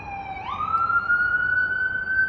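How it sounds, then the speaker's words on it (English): An ambulance siren sounds on a New York City street, a steady, loud electronic wail that sweeps up in pitch and then holds a sustained high tone, with traffic rumble beneath. "Yeah, that's an ambulance."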